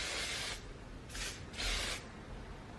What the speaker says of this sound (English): just take a hairspray, and I like this one by Redken, and it's a super strength hairspray